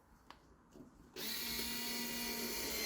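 A Parkside power drill driving screws whirs up abruptly and then holds a steady, loud, continuous spin, preceded by a couple of faint clicks and handling knocks.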